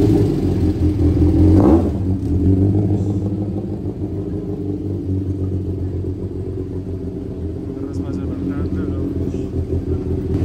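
A modified Mercedes 45 exhibition car pulls out at a car show in Envigado, giving a brief loud rev and then a steady low engine rumble, with voices talking nearby.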